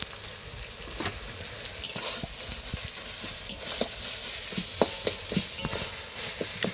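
Cooked piring greens sizzle in a pan as oil is poured over them, a soft continuous hiss broken by scattered stirring clicks and scrapes close by, with no voices.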